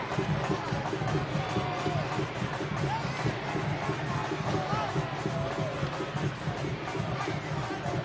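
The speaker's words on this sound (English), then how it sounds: "A modest crowd here at Dignity Health Sports Park" A modest soccer crowd at Dignity Health Sports Park murmurs steadily in the background, with distant indistinct calls, while a commentator talks over it throughout.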